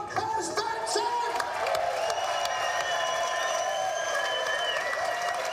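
A huge Le Mans crowd, many of them Danish fans, cheers and applauds for driver Tom Kristensen, a broad roar of whoops and clapping swelling together, with voices rising through it.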